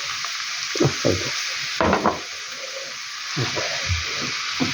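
Water poured into stewing cabbage in a pan, raising a steady sizzle and bubbling hiss with a few louder splashy bursts over a constant frying background.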